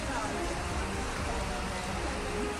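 Torrential monsoon rain pours through Worli station in Mumbai, water cascading like a waterfall in a dense, steady hiss and rush that fills the whole stretch without a break.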